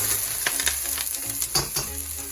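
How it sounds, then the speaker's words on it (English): Onions and baby bella mushrooms sauté in olive oil, a loud, close, continuous sizzle with quick crackling pops and the scrape of stirring, heard alone. "I'm going to add my onions and my mushrooms, and we're just going to saute these for about 15 minutes"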